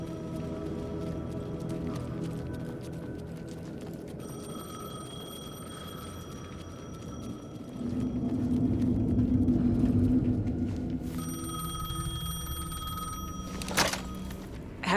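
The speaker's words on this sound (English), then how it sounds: "The payphone was ringing." A payphone rings in Alan Wake 2, its repeated bell bursts sounding over a low ambient rumble, with a louder swell of background noise midway through.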